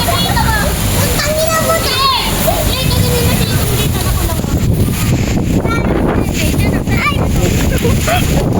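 Strong wind roars steadily into the microphone, buffeting it throughout, with faint voices underneath.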